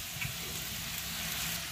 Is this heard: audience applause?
no